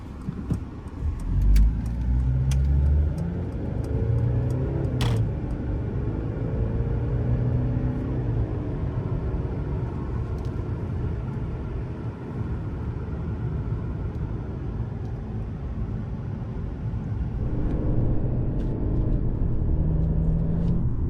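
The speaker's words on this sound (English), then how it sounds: "And now we will go on a little drive around" Steady cabin rumble of a Mercedes C-Class cruising along an island road, low and continuous with mild engine swells and faint road noise, no talking.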